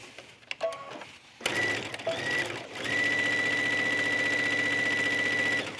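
A sewing machine stitches down a seam on a tunic with an elastic bell sleeve, starting in short bursts, then running steadily and close with a fast even hum.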